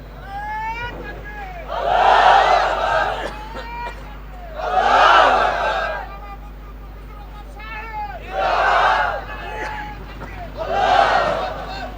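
A crowd at an outdoor Islamic sermon gathering shouts takbir in four loud, roaring bursts, each lasting about a second, with quieter murmuring between them.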